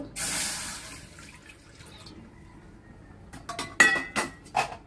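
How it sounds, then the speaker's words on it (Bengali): Water splashes and trickles into a wok on the stove in a home kitchen, a close pouring rush at first, then scattered drips and clinks of the pan. "চুলায় একটা কড়াই বসিয়ে নিয়েছি যে জল দিয়ে দেব"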